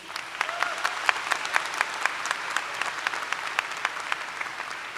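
A large crowd applauds at a 2022 undergraduate commencement for Westfield State students, sustained clapping with individual sharp claps standing out across a hall-like space, moderately loud and steady throughout, with no speech over it.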